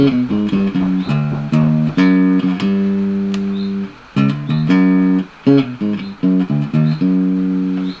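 An electric bass with mixed pickups, a Precision-style instrument built from parts of several basses, plays a run of plucked notes, some short and punchy, others sustained, with brief gaps between phrases.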